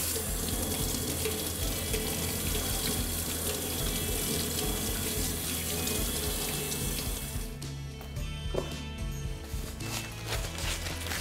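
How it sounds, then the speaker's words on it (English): A round fish is rinsed under a running kitchen sink tap, giving a steady, close rush of water for several seconds before the flow cuts off, followed by faint handling sounds. "I'm going to go over to the sink and I'm going to give the fish a quick rinse"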